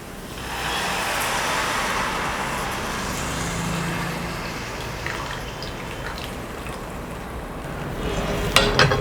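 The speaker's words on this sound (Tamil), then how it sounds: "அந்த புளியை இதில் விட்டுடுறேன்." Thick tamarind water poured into a pan of mango ginger pickle, setting off a broad, loud hiss and bubbling that holds steady, with a few clinks near the end.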